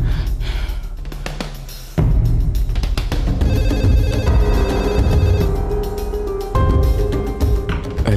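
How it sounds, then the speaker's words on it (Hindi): A telephone rings insistently in a scene from an Urdu-dubbed television drama, with repeated electronic ringing bursts over a busy background of music and room noise. "फोन उठाओ"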